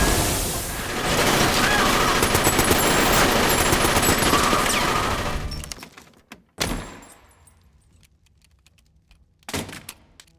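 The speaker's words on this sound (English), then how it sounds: "the scene where Art just pulls out a Tommy gun and takes out everybody" A Tommy gun fires in a sustained roaring burst during a Terrifier 2 film scene, loud and dense for several seconds, then trails off into a few isolated heavy thuds and bangs.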